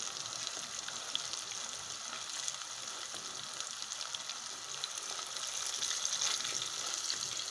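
Burger patties sizzle steadily in a hot frying pan, a constant bright crackle of frying fat with a slight rise in intensity near the end, no voices.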